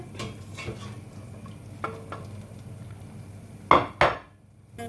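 Cooked meat being set onto a plate: a few light utensil clicks over a low kitchen hum, then two sharp close clatters of cutlery against dishware near the end.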